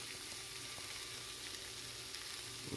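Shrimp fry in a pan with a soft, even sizzle, a faint steady hiss without talk.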